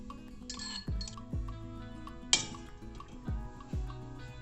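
Crushed pepper, clove, ginger and tulsi being added to water for ayurvedic tea, heard as a few soft metallic clinks and taps with light liquid sounds, quiet and close.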